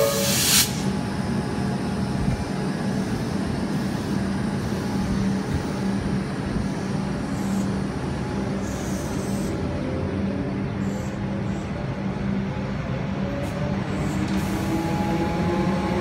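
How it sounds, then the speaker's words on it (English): A Comeng electric suburban train set arrives at platform 5 of South Yarra station in Melbourne, a steady loud rumble of wheels and motors with hiss, rolling on continuously and near for the whole stretch. "Comench set arriving into platform number 5 here at South Yarra"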